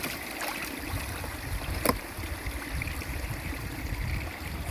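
Water flows past a repaired dam as a continuous gurgling rush at moderate level, broken by one brief sharp knock partway through, with no speech.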